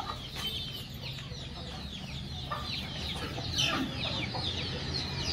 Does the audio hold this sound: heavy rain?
no